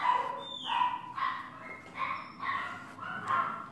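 Several dogs barking and yipping at a distance, a steady run of short repeated barks with no one speaking.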